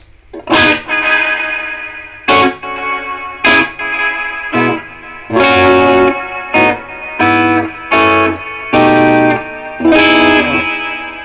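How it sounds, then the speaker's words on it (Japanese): An electric guitar plays a series of strummed, sustained chords in short bursts through a Vivie Dolphin Deverb pedal, each washed with heavy delay and reverb that stretches the tails into a wide, spacious ring. "山彦効果にさらにディレイとリバーブを加えまくった状態がこれ。"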